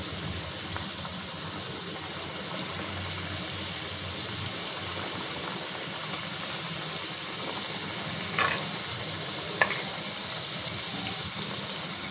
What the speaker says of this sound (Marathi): इकडे मी कढईमध्ये तेल गरम करत ठेवलंय, एक एक करून मी तळून घेते